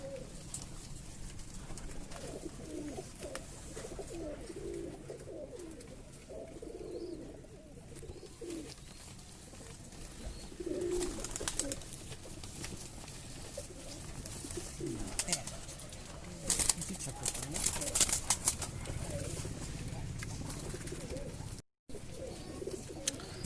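A Kalshira pigeon coos in low, intermittent calls against constant background noise, with occasional faint voices nearby.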